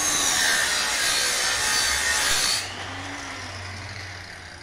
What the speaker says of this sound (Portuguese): Você vai passando a lixadeira